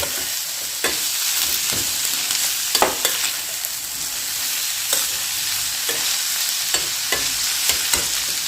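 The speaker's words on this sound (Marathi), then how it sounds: "एकच मिनिट कांदापात तेलात भाजून घ्या" Spring onion greens fry in oil in a pan, making a loud, steady hissing sizzle broken by regular spatula stirs and scrapes that arrive roughly every second.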